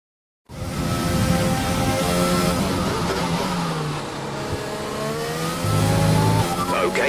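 Race car engine on a qualifying simulation lap at a race weekend in Australia, revving steadily and loud after a brief silence, pitch sweeping up and down through gear changes, with speech faintly over it.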